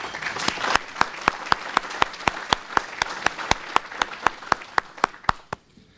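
Applause for the kitchen and serving staff at a lunch program. It starts as a short burst of group clapping, then thins to a few slow, separate claps that fade out one by one.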